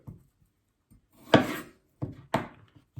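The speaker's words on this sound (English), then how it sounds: "I'll cut across it the other way now as well" A knife chops through lettuce on a cutting board for a vegetable wrap, giving three crisp separate thuds spaced about a second apart, close and fairly loud, with small soft taps between them and no talking.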